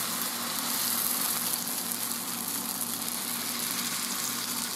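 Homemade pancake batter frying in a hot pan, a dense, even sizzle close up that carries on without a break and with no talk over it.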